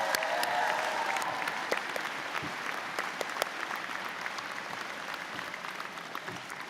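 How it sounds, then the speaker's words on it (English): A round of applause from graduates and guests at a university convocation ceremony, steady dense clapping that gradually tapers and thins toward the end. "Graduates, may I ask you to please join me in a round of applause for all the MRU staff and faculty that helped you get here today."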